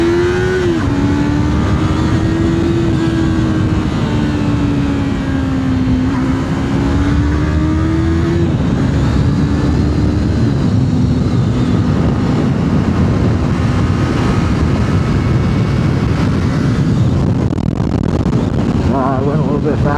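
A Yamaha R3 motorcycle engine hums and rises in pitch as the bike speeds up on the road, its drone steady under heavy wind rush, close and loud throughout.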